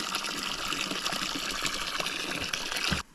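A garden hose fills a stock tub with water for calves on a farm, a steady continuous gush and splash close by that stops abruptly near the end, with no talking.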